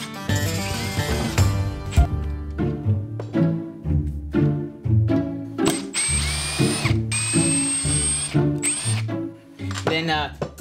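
A power drill drives two-and-a-half-inch screws into wood, several bursts of whining motor and ratcheting clatter starting and stopping close by, with brief gaps between screws.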